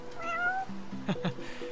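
A cat meows twice in close succession inside the video game Final Fantasy XV, fairly loud and near, over soft game ambience and music with no talking.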